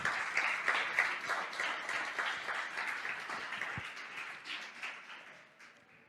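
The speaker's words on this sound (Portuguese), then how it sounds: "Você pode aplaudir o Senhor?" A congregation claps during a church service, a full, steady round of applause from a crowd that gradually thins and fades out over several seconds.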